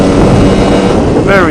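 Lambretta Series 1 scooter fitted with an MMW KillerCase 260 Simonini engine, heard while riding into the wind: a loud, steady, close engine drone heavily buffeted by wind.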